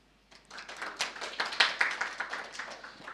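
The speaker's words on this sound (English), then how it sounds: "Let's welcome her with a round of applause" Applause from a small gathering welcoming Reverend Sarah Archer, a vicar speaking on walking the Camino, with sparse individual claps that build into a modest, fairly close round of clapping.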